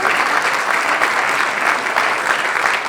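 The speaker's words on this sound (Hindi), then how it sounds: "जोरदार तालियां चाहिए।" A theatre festival audience breaks into loud, sustained clapping, a thick, even wash of many hands held close and steady throughout with no talk over it.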